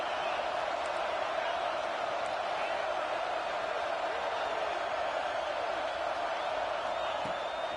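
A stadium crowd in a college football video game at a Buckeye home game roars in a dense, steady wash of cheering throughout, with a commentator's voice talking over it.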